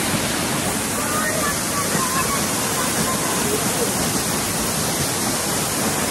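Soochipara waterfall in Wayanad roars in a dense, unbroken wash of falling water, loud and close throughout.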